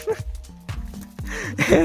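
A dog gives a few short, high yips and barks close by on a farm at night, brief and irregular, with quiet shuffling around them.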